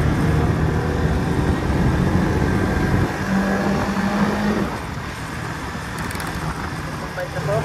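Steady wind roar and road noise from a motorcycle riding on a highway, loud and continuous, with a voice speaking over it.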